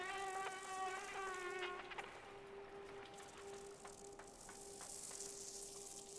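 Insects buzzing like bees or mosquitoes in the video game Limbo, a steady high whining drone with pulsing tones that fades into a thinner hum, alone and fairly quiet.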